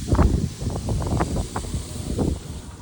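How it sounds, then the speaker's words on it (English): Gusty wind buffets the microphone in rough, uneven bursts, a low rumbling roar with no voices. "It's a little windy."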